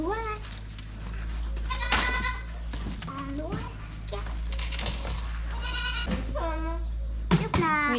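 Farm goats bleat repeatedly at close range, several wavering calls overlapping and spaced across the stretch, while a child and adults chat in French nearby.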